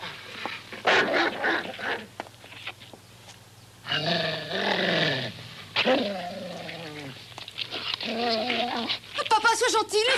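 A frightened dog that may be rabid growls and snarls in bursts near a person, with whines and barks between tense pauses.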